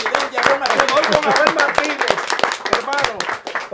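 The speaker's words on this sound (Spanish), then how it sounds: "mire el aplauso" A crowd applauds with dense, rapid clapping at a campaign event for a presidential candidate, and several voices talk and call out over the clapping throughout.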